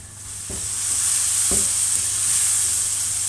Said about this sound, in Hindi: अब टमाटर और सारे मसालों को अच्छी तरह भून के